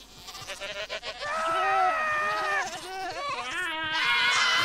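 Sheep and goats bleating in the Minecraft video game, several drawn-out wavering bleats close and loud, with a voice talking underneath.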